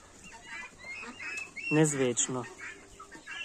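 A young white turkey in a pen squeaks in a few high, thin peeps, close by, alongside a burst of clucking fowl and someone speaking.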